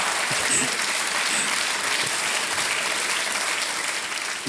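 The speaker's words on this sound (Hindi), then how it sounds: "देख रहे हैं पत्नी जी ताली बजा रही हैं" Applause fills a TV quiz show studio, a dense, steady burst of many hands clapping at once, loud and continuous for several seconds with no voices over it.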